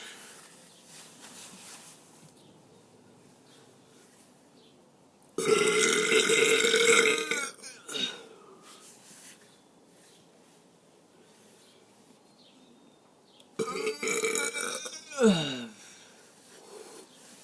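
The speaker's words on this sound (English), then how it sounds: "that was a burp inside of a burp." A person lets out two long, loud, raspy burps separated by quiet, each stretching a couple of seconds and ending in a wheezy tail.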